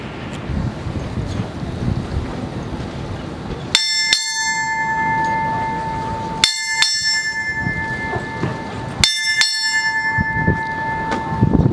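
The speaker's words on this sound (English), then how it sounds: "Bell ringer. Strike 6 bells." A ship's bell rings six times at an outdoor naval change of command ceremony. The strikes come in three quick pairs, each ringing out clearly over gusty wind noise.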